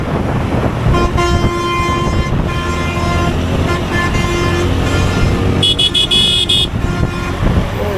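A bus drives ahead on a road crossing a bridge, heard from a motorbike, with loud continuous engine and road noise, and a sharp horn toot near the end.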